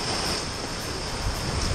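Gusting 25-knot wind roars across a sailing boat at sea, a dense, steady rush of wind noise mixed with surf and water washing past the hull, loud and close without a break.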